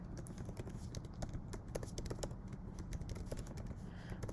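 Quick, light clicks of typing on a computer keyboard in uneven bursts, faint and close over a low background hum, with no voice.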